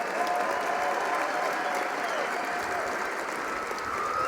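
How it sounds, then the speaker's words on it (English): A conference audience applauds steadily throughout, a dense wash of clapping from a large crowd at an opening show, with no speech over it. "Let's give another round of applause to your three candidates for the National Youth Representative."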